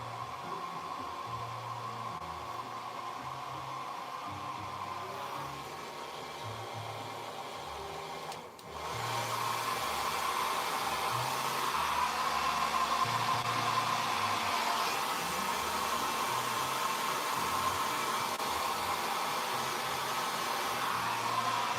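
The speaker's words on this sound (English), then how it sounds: "I'm gonna dry it on low." A hair dryer on its low setting blows with a steady, close whooshing hum, holding constant for about twenty seconds with a brief dip midway, no voices.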